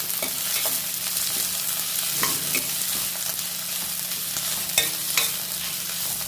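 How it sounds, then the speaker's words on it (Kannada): Onion, green chili and cashews fry in a pan for a chicken gravy, giving a steady close sizzle with scattered clicks and scrapes from stirring. No one speaks. "ಇದಕ್ಕೆ ಕಾಯಿ ಮೆಣಸು ಹಾಕಿಕೊಳ್ಳಿ ಮತ್ತು ಗೋಡಂಬೆ ಹಾಕಿ ಈಗ ಇದೆಲ್ಲ ಉರಿಯೋದು"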